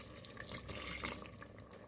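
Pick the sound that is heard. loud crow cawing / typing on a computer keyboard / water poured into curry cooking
water poured into curry cooking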